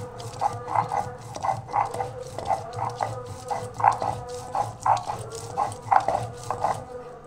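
Ginger, green chilli and cumin ground together on a grinding stone: steady rhythmic rubbing strokes, about two per second, each with a squeaky scraping tone, close and continuous throughout.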